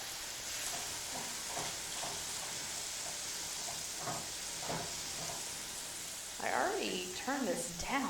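Hoisin pork sloppy joe mixture stirred in a pan on the stove, a steady soft sizzle and scraping under a continuous hiss, with a voice talking briefly near the end.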